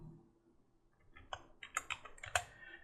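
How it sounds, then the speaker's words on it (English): Keys on a computer keyboard are tapped in a short, quiet burst of clicks, starting sparse and quickening, with faint room noise underneath and no talking. "And so Control F, and I'm just going to type here"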